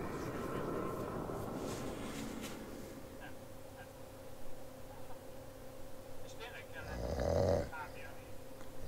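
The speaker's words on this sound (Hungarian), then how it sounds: "És horkolunk tovább." Cartoonish snoring from a video game character repeats in slow breaths beneath a voice speaking over it, with a louder snore burst near the end.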